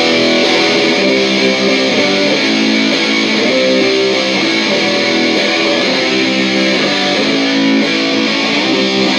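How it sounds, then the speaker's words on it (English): Electric guitar played through a DOD Death Metal distortion pedal, a dense, saturated wall of fuzz with sustained, chugging chords that holds steady and loud throughout, no voice. "DOD Death Metal Distortion."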